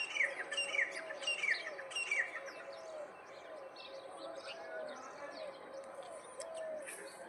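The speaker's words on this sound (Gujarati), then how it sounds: "પંક્ષી કેવા મસ્ત મજાના બોલે છે આ" Several small birds chirp and call in quick, bright bursts outdoors on an overcast morning, with soft cooing in the background and a faint steady ambient hum, no talking.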